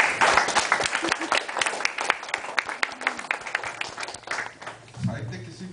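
An audience at a Hindi literature event bursts into sustained applause, dense clapping that gradually thins out before a voice comes in near the end.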